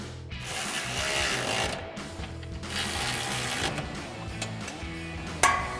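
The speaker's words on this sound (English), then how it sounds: "take our 15mm socket on our ratchet and tighten down our isolator" A ratchet with a 15mm socket tightens exhaust isolator nuts on a Camaro axle-back exhaust install, giving repeated close clicking strokes in uneven bursts.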